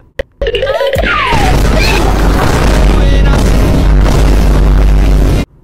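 A loud explosion sound effect in a meme: a short pop, then a massive booming blast that roars and rumbles steadily for several seconds before cutting off abruptly.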